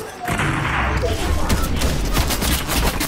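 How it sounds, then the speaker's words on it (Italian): Heavy, continuous shooting in Fortnite, a dense barrage of overlapping shots and thuds filling the whole stretch, loud and unbroken, with faint voices mixed in. "c'è uno che sta sparando violentemente"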